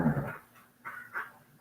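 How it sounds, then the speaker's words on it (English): A dog close by makes a low growl followed by two short whimpering grunts, fairly quiet, with no talking. "that's my dog, not me growling"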